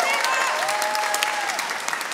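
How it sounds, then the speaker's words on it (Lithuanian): A concert audience applauds with dense, steady clapping that fills the hall, loud and continuous throughout. "plojimai."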